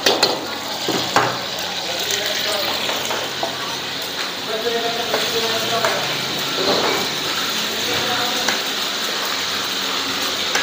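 Petai beans frying and being stirred in a pan, a steady loud sizzle with scraping stirs and clinks throughout, while people talk in the background.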